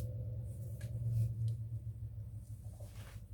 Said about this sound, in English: my neighbor has a loud truck, so if you hear that, I do apologize